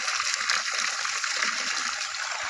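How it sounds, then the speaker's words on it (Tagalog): Water from a spring source pours steadily near a thatched hut, a continuous rushing, splashing flow at close range with no pauses or voices. "Ito yung source ng tubig natin guys."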